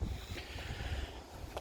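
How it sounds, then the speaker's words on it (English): Gusty wind buffets the microphone, a steady low rumble with airy hiss throughout, no voices. "It's always windy when the trees arrive."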